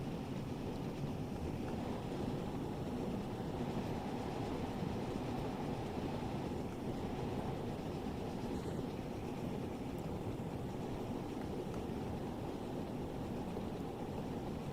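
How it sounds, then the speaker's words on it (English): A train rolls past steadily on a UK steam railway line in Train Sim World 3, a continuous loud rumble of wheels and rail noise lasting throughout with no talk over it. "There's another train."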